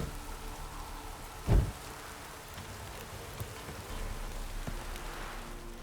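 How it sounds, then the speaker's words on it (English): Heavy rain pours steadily in The Witcher 3, a soft, even hiss of falling rain with one brief low thump partway through. "This downpour's a bastard"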